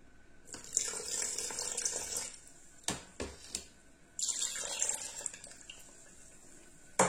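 Orange blossom water is poured into a batter while making kalb el louz, an almond semolina cake, in a blender. Close, splashing pours come in two main bursts with short knocks and quiet gaps between them.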